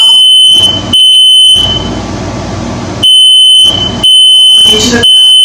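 An indoor smoke detector alarm blares loudly in a piercing high tone, sounding in long repeated bursts separated by short gaps of silence.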